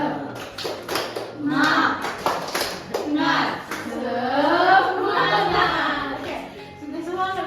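A school class does a rhythmic spirit clap, with bursts of sharp hand claps in a quick pattern in the first few seconds, then children's voices chanting and calling along, loud and close.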